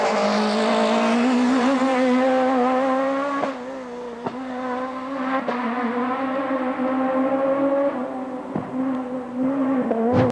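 A Peugeot rally car's naturally aspirated engine at full throttle, revving toward 10,000 rpm. It gives a loud, sustained high-pitched wail with brief dips between gear changes, and no voices are heard.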